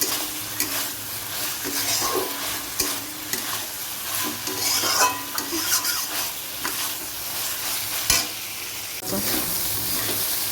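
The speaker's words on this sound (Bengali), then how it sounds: "এবারে আমি এর মধ্যে সয়াবিনটা দিয়ে ভালো করে কষিয়ে নেবো" Soybean chunks being stir-fried in a spiced masala in a pan at home, with steady scraping and stirring over a continuous sizzle and occasional clinks of utensil on pan, close and fairly loud.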